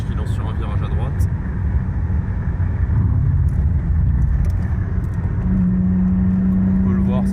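BMW 320i E36 sedan used as a Congolese taxi, its engine droning and pulling steadily through the revs while driving on a winding road, loud and constant, with someone talking over it.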